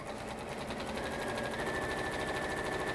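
A sewing machine stitching a top line on textile, a rapid even mechanical whirring with regular needle beats, steady and close for the whole stretch.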